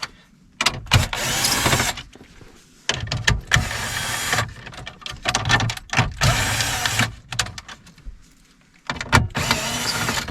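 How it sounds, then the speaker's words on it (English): Bursts of ratcheting from a 9/32 socket wrench backing out the six radio mounting bolts inside a GM car dash, in short, close, loud runs separated by brief pauses. "grab your 9/32 socket, pull out these 6 bolts"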